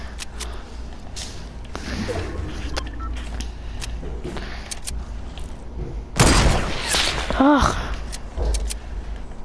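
Sniper rifle headshot in a first-person shooter video game, a sharp loud burst standing out from continuous background game noise and scattered small clicks and footsteps, with a short grunt from a player.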